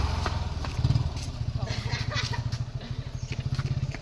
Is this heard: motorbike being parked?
yes